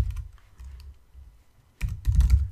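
Computer keyboard keys clatter as code is typed for an iOS app in Swift, a few scattered taps at first and then a denser, louder burst of rapid keystrokes near the end, with no talking.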